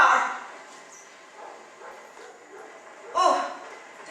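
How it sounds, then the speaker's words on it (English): A dog barks and yips a few times in an old suspense radio drama, heard distantly at first and then in a louder burst near the end, mixed with soft background noise. "Oh, There's that dog."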